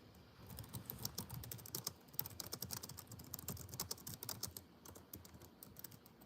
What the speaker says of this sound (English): I'm typing here real quick.